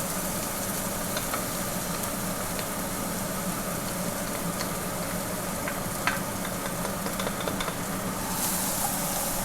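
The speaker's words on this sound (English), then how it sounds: "We're just going to saute garlic and onion until the onion starts to get translucent" Garlic and onion sauté in a pan, a steady soft sizzle with faint crackles and pops running evenly throughout, no one speaking.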